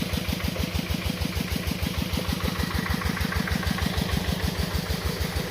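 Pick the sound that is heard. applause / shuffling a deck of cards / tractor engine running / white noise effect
tractor engine running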